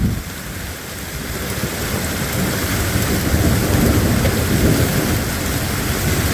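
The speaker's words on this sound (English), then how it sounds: "here comes the rain" Steady heavy rain pours down near 1 a.m. during a tornado outbreak, with a deep rumble of thunder rolling underneath, continuous and fairly loud throughout.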